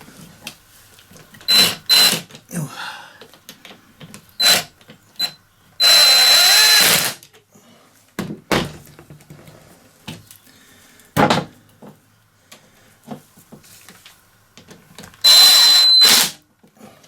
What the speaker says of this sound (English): I'll swap over to my impact gun